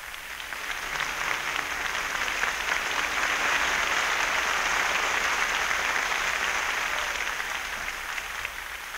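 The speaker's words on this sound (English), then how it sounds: "acknowledge the applause of the audience for their impressive performance of this seldom-heard symphony" Concert hall audience applauding Arturo Toscanini and the NBC Symphony Orchestra after a 1939 symphony performance: a steady, dense wash of clapping that swells and then slowly thins, heard from a distance with no voices over it.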